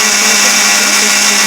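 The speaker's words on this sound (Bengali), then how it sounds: "এখন আমি মিক্সি জালের মধ্যে দিয়ে দেবো" Loud, steady whir of an electric mixer grinder blending thinly sliced ripe ash gourd into a paste, a constant high motor drone with no pauses.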